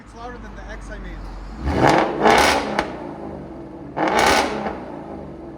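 A 2021 Ford Mustang GT with a 5.0L V8 and Corsa Xtreme cat-back exhaust through a double H-pipe idles low, then three quick, loud revs burst out close by, with a short click between them.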